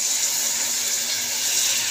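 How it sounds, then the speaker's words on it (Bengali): About a cup of water is poured into a pan of fried masala for a bhindi dish, making a steady, fairly loud splashing hiss that runs without a break. "তো এই যে জলটা দিচ্ছে।"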